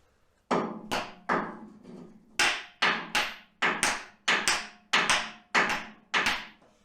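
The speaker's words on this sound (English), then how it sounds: "Might have to use the other hammer for this one." A hammer taps a core plug into a Rover V8 engine about a dozen times in a steady rhythm, each sharp ringing tap close and clear, nothing else audible.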